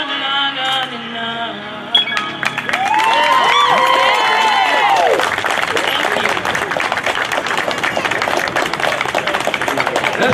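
Cheers and whoops from a crowd at a Memorial Day ceremony break out, then give way to sustained, dense clapping that continues steadily to the end.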